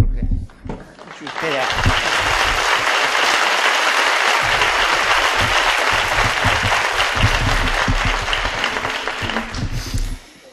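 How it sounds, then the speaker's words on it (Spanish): A theatre audience at a 1979 ventriloquist performance bursts into loud, sustained applause that swells quickly, holds steady for several seconds, then tapers off, with a voice briefly heard near the start. "si no me dan un aplauso"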